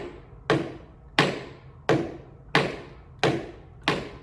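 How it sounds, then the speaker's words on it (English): Tap shoes doing a slow beginner shuffle, six sharp scraping taps at an even, unhurried pace, close and clear with no talking. "So a slow shuffle sounds like this."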